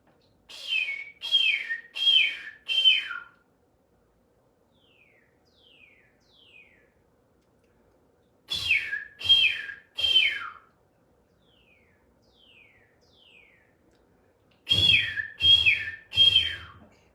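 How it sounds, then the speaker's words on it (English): Whistled bird-like calls sound alone in three clear bursts, each a quick run of three or four rising chirps, with fainter short phrases between them; the calls are close and loud against near silence. "Wow, those birds are serious, man. They're talking to you."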